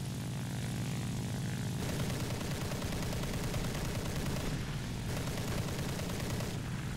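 Twin aircraft cannons on a Ki-43-III otsu fighter in War Thunder, firing in sustained rapid bursts over a constant propeller engine drone, with short pauses between volleys.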